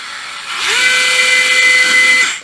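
Cordless battery drill with a solid aluminium body spins up, runs steadily at a high whine for about a second and a half, then stops; close and loud, with no talking.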